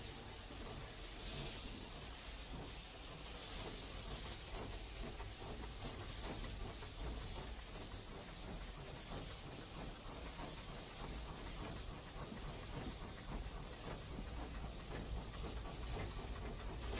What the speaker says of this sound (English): Steam coming out the front is from drain pots, which just allow the surplus water to come out.